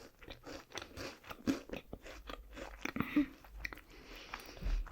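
Cheese-flavoured Kit Kat wafer being bitten and chewed close up, a run of crisp crunches and wet chewing sounds in an irregular rhythm, quiet and intimate with no talking.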